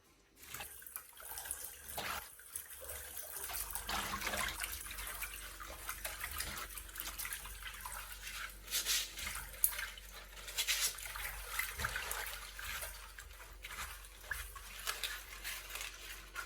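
Fig leaves being rinsed under running tap water, a quiet steady stream splashing in a sink with faint intermittent handling noises, close by and without speech.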